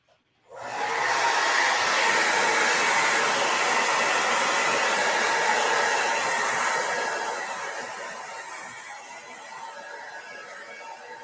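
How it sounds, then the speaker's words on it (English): A handheld blow dryer drying paint on a canvas roars steadily and close for about ten seconds, switching on abruptly, staying loud and alone, then easing slightly toward the end. "I'm going to take my blow dryer now and dry this up."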